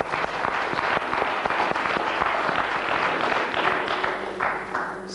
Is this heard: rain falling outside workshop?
no